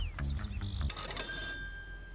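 A telephone ringing in the video game Kitty Powers' Matchmaker, a short electronic ring that follows brief game sounds and fades into a lingering high tone.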